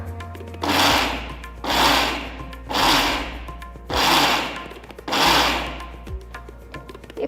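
A mixer grinder whirs loudly in five short bursts, each about a second long, with brief pauses between, as it pulses nalla karam podi, a spiced powder.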